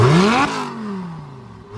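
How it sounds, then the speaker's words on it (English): Lamborghini Gallardo with a Lamborghini Sports exhaust revs hard in a sharp rising blip, then the pitch drops away into a falling, burbling deceleration, loud and close with no talking. "And this exhaust, Lamborghini Sports exhaust, sounds absolutely ridiculous."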